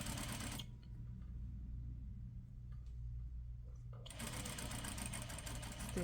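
A sewing machine stitches a set-in sleeve at a half-inch seam with a fast, buzzing whir that runs, stops for a few quiet seconds of faint handling, then starts again close up.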